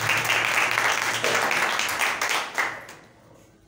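A church congregation applauds in a loud, dense burst of clapping that carries steadily for nearly three seconds, then thins out and fades near the end.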